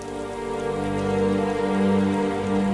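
Rain falls steadily through a night scene in the mafia film Road to Perdition, a continuous hiss under a sustained low musical drone, with no gunshots or voices standing out.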